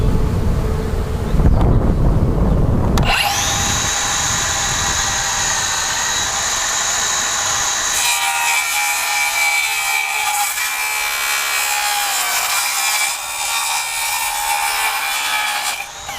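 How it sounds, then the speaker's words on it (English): Power saw cutting through a beehive's wooden frame and honeycomb, a loud steady buzzing whine that starts abruptly after a few seconds of rustling and runs continuously, shifting pitch partway through, with no talking. "And I'm cutting through everything,"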